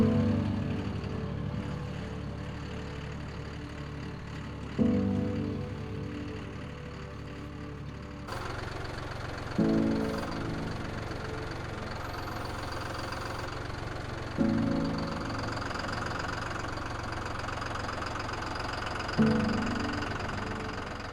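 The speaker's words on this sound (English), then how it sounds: "hook up the tractor, get the pallet forks on there" A tractor engine idles and labours while pallet forks shift a large wood stove, giving a steady mechanical drone with periodic knocking surges roughly every five seconds.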